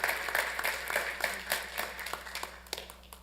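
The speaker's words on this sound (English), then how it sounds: "let's please give them a round of applause" An audience at a city council meeting breaks into a round of applause, a dense patter of many hands clapping that holds steady, then gradually thins and fades out over a few seconds.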